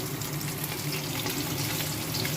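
Rui fish pieces frying crisp in hot oil, a steady dense sizzle with a faint background hum throughout, no voices.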